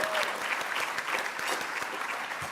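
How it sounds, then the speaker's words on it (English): Sustained applause from a gala audience, steady dense clapping throughout at moderate loudness with no other sounds standing out. "Now, yeah, applaud."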